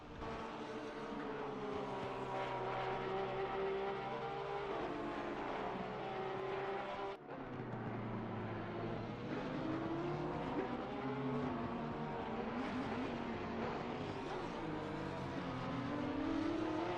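Porsche race cars battling at Laguna Seca, sustained high-pitched engine whine from several cars running close together, droning continuously with slight pitch sweeps as they accelerate and brake.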